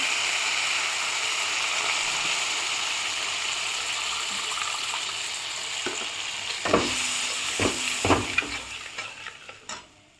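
Mustard paste frying in a pan with small fish for a sour fish curry, a steady close sizzle that gives way to scraping and stirring clatter near the end.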